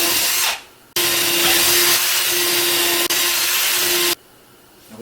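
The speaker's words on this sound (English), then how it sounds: "finish drilling my pilot holes into the guard and sink some 1-inch screws" A power drill bores pilot holes into an MDF guard in one loud, steady run of about three seconds, with a brief dip partway through, between short pauses.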